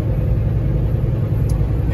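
Semi truck rolling along an interstate in a winter storm, a steady heavy low rumble of engine and road noise filling the cab with no pauses.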